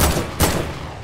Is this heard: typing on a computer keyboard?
no